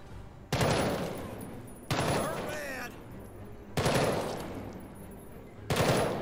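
Concentrated gunfire in the tactical video game Jagged Alliance 3 comes as four loud bursts of rapid automatic fire, each roughly a second long, separated by short pauses, with a faint background game ambience.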